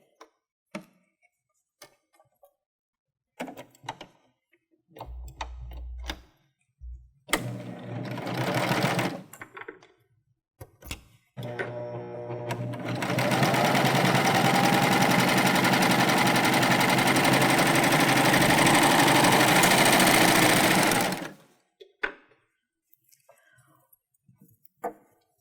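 A Baby Lock Euphoria sewing machine hems heavyweight Ponte knit with a few short stitching bursts and clicks, then one long, loud, steady run of rapid stitching for about eight seconds before stopping.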